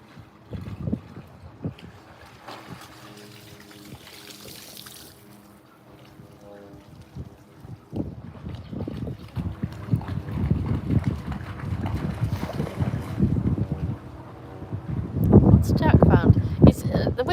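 Wind blows hard outdoors, a rough low rumble buffeting the microphone that builds toward the end, with a person talking over it throughout.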